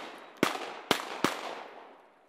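Three shotgun blasts ring out while duck hunting, sharp and loud, spaced about half a second apart, each trailing into an echo that fades through the open air.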